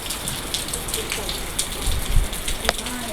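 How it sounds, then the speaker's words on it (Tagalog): Steady rain patters down on a surface outdoors, a continuous broadband hiss with a few louder drips and a low rumble near the end, and no voices. "Ayan, ulan na naman."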